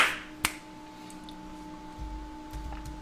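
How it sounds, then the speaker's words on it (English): A single sharp hand clap for audio sync cracks out near the start, loud and close. A steady electrical hum continues beneath it, and there is no speech. "Clap sync."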